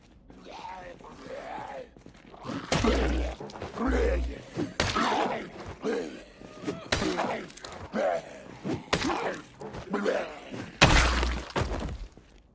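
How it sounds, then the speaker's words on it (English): Zombie slaps against glass in Project Zomboid: a few sharp, broadband smacks spaced several seconds apart, heard under continuous talking by a player. "Almost like somebody slapping against the glass"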